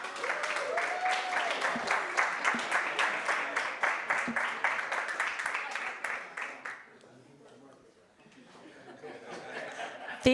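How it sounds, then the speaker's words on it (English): Audience applause at a Black History Month 2023 awards event: rhythmic clapping mixed with light laughter and chatter, then dying away into quiet murmuring before a brief final burst. "Round of applause."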